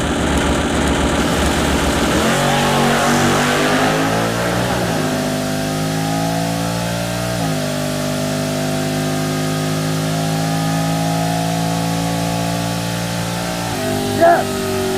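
A Crusher Camaro drag car runs down the strip, its engine note loud and steady with rising tones through several gear changes, and the roar stays close throughout.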